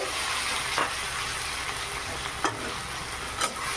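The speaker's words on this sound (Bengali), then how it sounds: "এটা কষিয়ে নেব এভাবে কিছুক্ষণ একইভাবে কষিয়ে নেব" Potato filling for paratha sautés in a pan, a steady sizzle with a few periodic scrapes and clinks as it is stirred, close by and without speech.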